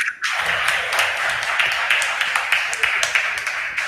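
An audience at a regional school quiz contest applauds a school team, a dense, continuous wash of many hands clapping that stays fairly loud throughout after a brief quiet start.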